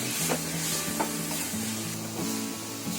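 Dry coconut modak filling is stirred in a hot pan over a full flame. Close scraping strokes come with a steady sizzle, and faint sustained tones sit underneath.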